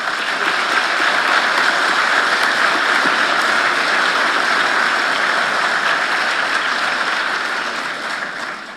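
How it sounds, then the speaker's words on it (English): A graduation ceremony audience claps in a long, full, even wash of applause, loud and steady before tapering slightly at the very end, with no talk. "We've done a lot of clapping"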